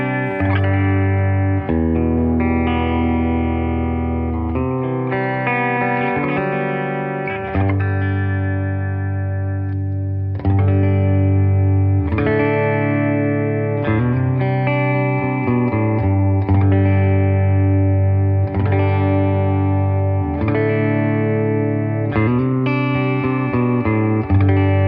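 Electric guitar played through a Fender Bassbreaker 30R amp on channel 1, EQ near noon and volume high, ringing out steady chords and melodic lines with bright, sparkly top end, loud and continuous with no talking.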